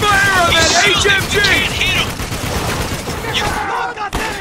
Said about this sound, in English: Focus fire on that HMG!